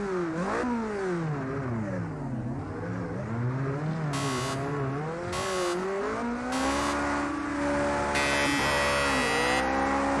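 High-revving race car engine lapping Circuit de la Sarthe in Project Cars 2, loud and continuous with rising and falling pitch through repeated upshifts and downshifts, with occasional tire squeal and no talk.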